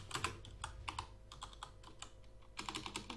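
Typing on a computer keyboard to send a message in an in-game chat: quick, close bursts of light key clicks in irregular clusters, with a short pause before a final flurry, and no talking.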